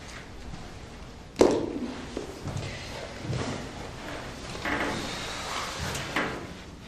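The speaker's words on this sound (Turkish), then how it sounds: "Çekmecelerimi temizliyorum." Drawers being opened and closed during cleaning, a sharp knock followed by a string of quieter wooden slides and bumps at close range, with no talk over them.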